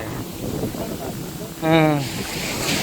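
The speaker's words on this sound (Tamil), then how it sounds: "காற்று சரியான காற்று அடிச்சிட்டு இருக்கு" Strong wind blows at a seashore, rushing and buffeting the microphone in a continuous roar, with a short tonal whine rising briefly in the middle.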